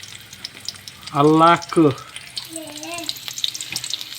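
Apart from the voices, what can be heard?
frying abuos (weaver ant eggs) in a pan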